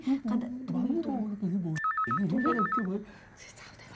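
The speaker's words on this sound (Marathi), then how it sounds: "तो फोन वाजतोय ना" Telephone rings in a Marathi TV serial household scene, two short warbling electronic ring bursts, moderately loud, under continuous conversation.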